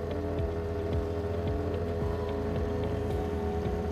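A Dayliff outboard engine drives a boat over heavy waves and current, giving a steady loud motor drone with a rising and falling pitch, and wind rushing across the microphone throughout.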